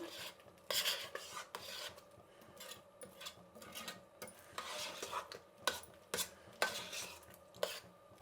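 A spoon scraping and stirring grated coconut into thick jaggery syrup in a metal pot, with irregular rasping strokes and occasional clinks, close and fairly quiet, with no talk over it.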